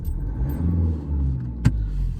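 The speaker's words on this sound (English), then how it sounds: "I would like all of you to hear the engine sound when it switches on" A Mahindra Scorpio N SUV's engine idles with a low, steady rumble close by, with a brief sharp click or knock partway through and no talking.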